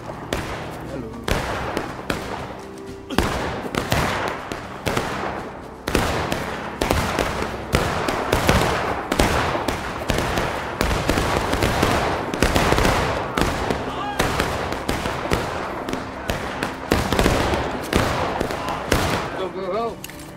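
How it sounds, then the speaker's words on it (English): Rapid, loud bursts of cannon fire at a Pickett's Charge reenactment event boom one after another in an irregular barrage, with barely a pause between blasts. "They have independent fire on the cannon."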